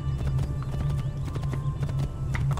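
Horse hooves clip-clop steadily in the video game Assassin's Creed II, a continuous rhythmic trotting over a low, constant game background hum, with no talking.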